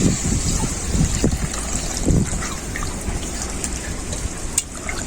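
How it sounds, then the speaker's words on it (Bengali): Hot water pouring into a pan of mutton curry, a steady watery rush and trickle with bubbling, close and fairly loud throughout, no voices. "গরম জল দিয়ে দিচ্ছি।"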